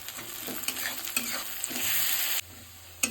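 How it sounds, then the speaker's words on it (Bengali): Steady sizzling of onion and tomato frying in a pan, with a few brief scrapes of stirring, the hiss dropping lower near the end. "টমেটো আর পেঁয়াজটা ভালো করে ভাজা হয়ে গেছে"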